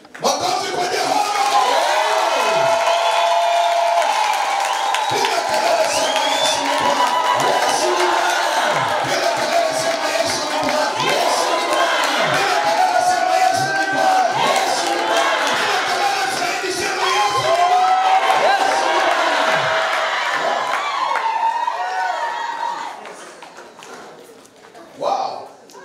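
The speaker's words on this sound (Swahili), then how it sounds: "Makofi kwa Jehova." A church congregation at a healing gathering erupts into loud, sustained cheering, shouting and clapping, a dense crowd roar that holds for a long stretch before tapering off near the end.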